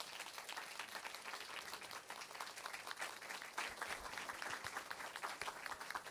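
Audience applause at the end of a live concert at Tokyo Tower, a dense, steady wash of many hands clapping that continues evenly for several seconds.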